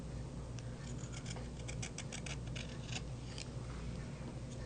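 Scissors snip through quilt fabric in quick, faint, irregular cuts over a low steady background hum.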